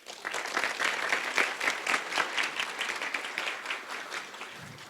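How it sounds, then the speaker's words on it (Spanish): Steady, fairly loud audience applause at an education ministry event, with dense, even clapping from a large crowd that holds for several seconds before easing slightly at the close. "yo les pido un aplauso para ellos"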